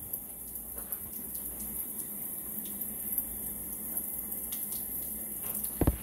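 Tap water runs steadily over a freshly processed coturnix quail during a final rinse, a continuous close splashing wash with no talk.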